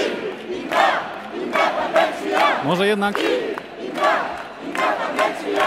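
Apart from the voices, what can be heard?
crowd shouting chant at Catalan nationalist demonstration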